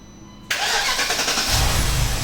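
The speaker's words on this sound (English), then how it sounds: "start the car right up" A BMW E53 X5 engine cranks and catches, jumping into a loud, steady idle with a low rumble that grows heavier toward the end.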